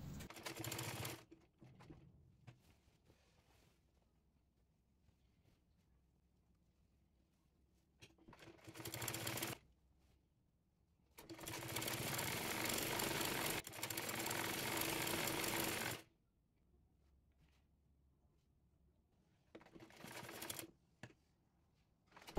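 Sewing machine stitching the neckline of an apron, with several loud bursts of rapid rhythmic clattering, the longest lasting about five seconds, separated by quiet pauses with faint handling sounds.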